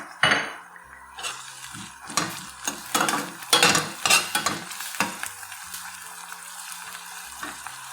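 Thick ginger-garlic masala paste hits a karahi and is stirred, with repeated metallic scrapes and clanks of a spoon against the pan over a steady frying sizzle, loud and close, no talk.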